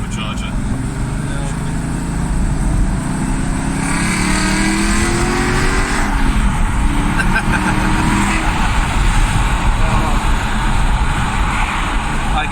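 Supercharged car engine roaring steadily at speed, loud and close, with a swelling rise in pitch early on before settling into a sustained high drone under wind and road rush.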